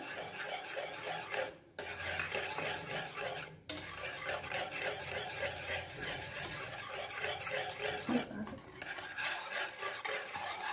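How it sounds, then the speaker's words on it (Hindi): A whisk scraping steadily around a pan of besan stirred into an egg halwa mixture, a continuous close rasping and clinking with a couple of brief pauses, no voices. "अभी भी हम मुसलसल इसमें अपना विस्क चला रहे हैं।"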